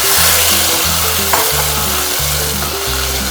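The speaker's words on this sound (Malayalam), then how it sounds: "ഇതിൻ്റെ പച്ചമണം മാറുന്നത് വരെ വഴറ്റി കൊടുക്കണം" Cooked pumpkin and carrot sizzle loudly in ghee in a pan for payasam, a continuous close frying hiss over steady low tonal humming.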